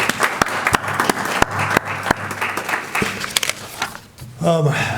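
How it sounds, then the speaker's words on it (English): At an electric cooperative's annual members meeting, an audience applauds the nominating committee, with scattered sharp claps over a steady crowd patter that fades out, followed by a voice speaking. "Please let's give them a round of applause for their service"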